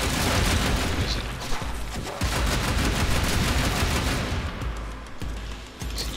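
Rapid bursts of video game gunfire shooting at crates, dense and continuous with sharp repeated shots and booms throughout, loud and close.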